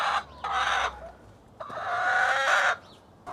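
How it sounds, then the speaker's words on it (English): A white hen clucks loudly and repeatedly in drawn-out, squawking calls, close by, with short pauses between bursts. "Our white chicken is so loud."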